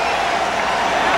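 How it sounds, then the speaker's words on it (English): Packed basketball arena crowd roars in a steady, loud wash of cheering after a dunk at a 1993 NBA playoff game, brief and unbroken. "Got this crowd back in a frenzy again."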